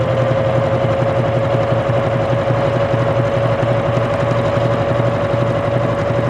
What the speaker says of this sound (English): it's definitely not as quiet as, you know, some of the higher end sewing machines